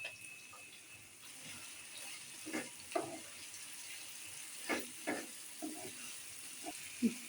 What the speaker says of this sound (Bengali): এই যে রসুন পেস্ট দিয়ে দিলাম অল্প